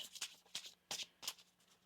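Tarot cards being shuffled by hand at close range, four or five quick riffling bursts with short pauses between them, crisp and fairly quiet.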